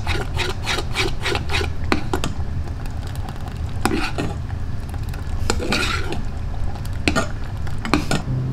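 Cooked tender meat being shredded and scraped in a pan with a metal utensil, giving steady rasping, scraping strokes with sharp clinks against the pan, close and continuous throughout.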